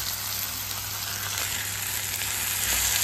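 Masala and salt sautéing for prawn thokku, a steady close sizzle and fry hiss running unbroken with no voices.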